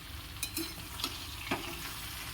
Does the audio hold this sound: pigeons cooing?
no